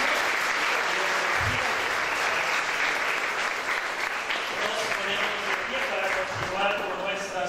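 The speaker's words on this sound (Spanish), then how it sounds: "Le damos un fuerte aplauso a Fernanda pues, por esto" Guests at a quinceañera applaud loudly for Fernanda, a sustained wash of crowd clapping with voices mixed in.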